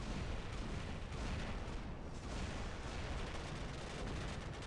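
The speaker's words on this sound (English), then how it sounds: "Let's see if we can get some side view when he fires those weapons." A War Robots mech fires its Zeus and Magnum weapons in a dense, continuous roar of blasts and rumbling impacts, loud and unbroken throughout.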